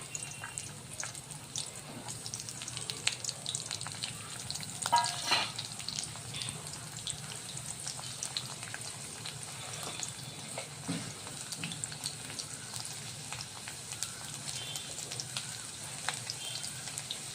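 Thin slices of garlic frying in hot oil in a kadai, a continuous soft hissing sizzle with faint crackles and an occasional stir, steady and moderately quiet throughout.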